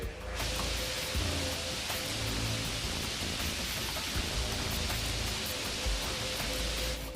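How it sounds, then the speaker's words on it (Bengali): A dense, unbroken roar of heavy rain pours steadily throughout, loud and constant with no pauses. "মুসুলধারে বৃষ্টি আর তুমুল ঝড় শুরু হয়েছে"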